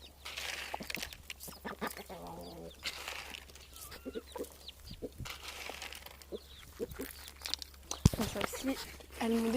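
A Pekin bantam hen clucks softly near her chicks in a farmyard, with a person talking over the scattered low calls and occasional rustling.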